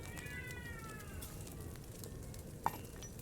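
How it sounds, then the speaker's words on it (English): Cats in Kingdom Come: Deliverance 2 meow outside during herbal brewing, with a couple of faint drawn-out calls early on and a sharp clink later over a quiet background. "Sounds like there's a lot of cats outside."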